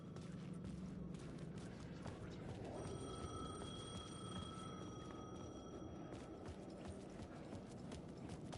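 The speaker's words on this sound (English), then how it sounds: "The payphone was ringing." Payphone ringing in the video game Alan Wake 2, a steady electronic ring held for a few seconds mid-clip beneath a dense clattering, rhythmic ambient bed, no talking.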